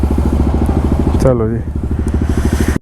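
A motorcycle riding on a road on a Rishikesh trip, its engine putting out a loud, steady rhythmic thrum close by, with someone speaking over it briefly.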